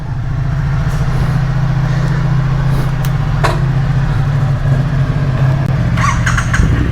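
A new Triumph Street Twin motorcycle on its first ride from home, its steady engine drone holding constant and loud throughout, with no talk over it.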